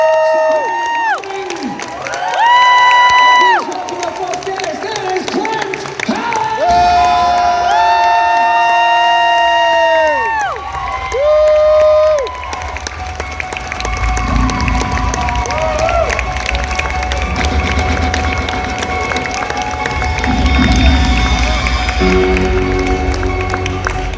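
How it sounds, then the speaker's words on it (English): Audience at a horror-themed gathering erupts into clapping and cheering, loud crowd noise swelling in waves with whoops and shouts over dense applause, following stretches of amplified musical tones. "So please start with some clapping and cheering if you wouldn't mind."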